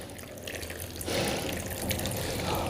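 Water is poured over a potted plant and drains through the soil, a soft trickle that swells into a fuller, closer splashing flow partway through and continues steadily, with no voices.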